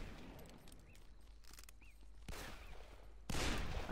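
Gunfire in the Call of Juarez video game rings out in a few sharp bursts over a low game background hum, moderately loud, with a fuller blast near the end.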